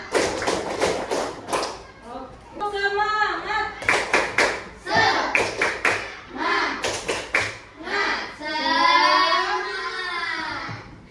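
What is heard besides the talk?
rhythmic hand clapping by a class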